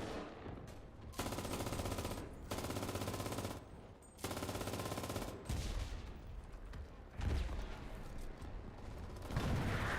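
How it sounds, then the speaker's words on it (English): A machine gun in the World War II shooter Enlisted fires in several long, loud sustained bursts, broken by short pauses, with mechanical rattling between the strings of shots. "I'm gonna take that, destroy that machine gun."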